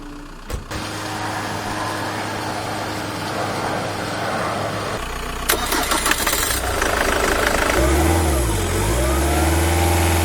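A Skoda Fabia's engine cranks and catches during a jump start, then settles into a steady idle with a rising rev near the end; close and fairly loud, no talking.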